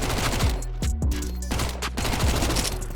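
MAC-10 submachine gun firing in Counter-Strike, fast repeated bursts of close, loud shots with a rapid rattling rhythm that goes on nearly without a break.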